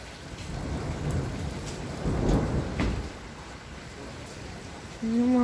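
Steady rain pours during a strong thunderstorm in Athens at night, with a deep rolling rumble of thunder building and fading midway, and a few sharp drips and knocks throughout.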